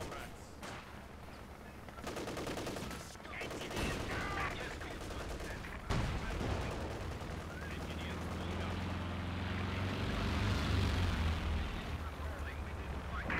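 Nebelwerfer rocket artillery firing in a Company of Heroes battle on the Port of Hamburg map, a rising, roaring barrage of launches and explosions building over sustained rumbling battle noise, with gunfire and a voice speaking in the background.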